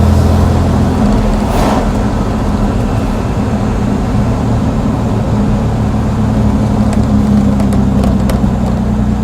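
The engine of a 1959 Austin Healey 3000 classic sports car hums smoothly and loudly from inside while driving, a steady low drone with road and wind noise throughout.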